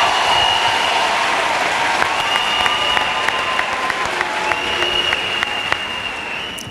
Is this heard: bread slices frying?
no